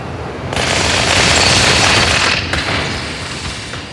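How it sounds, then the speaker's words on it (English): Needler and SMG gunfire in the video game Halo 2, played live at a packed E3 2004 press event: a loud, rapid, continuous stream of shots swelling and then easing off, with no voice over it. "The right trigger fires my Needler, my SMG, and the left fires my Needler"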